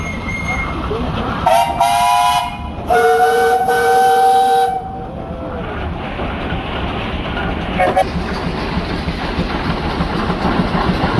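A 20 horse Minneapolis steam traction engine blows its whistle in two loud, sustained blasts and then a brief short toot, over a steady rumble of engine and show-ground noise.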